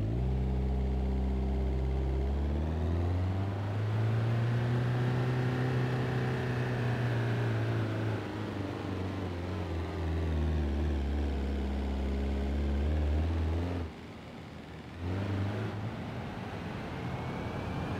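An Audi Q7 3.0L turbo diesel engine in BeamNG.drive hauls trailers weighing 2,800 kilograms, a steady, close droning hum whose pitch climbs and then eases, with a brief drop in volume near the end before the drone resumes.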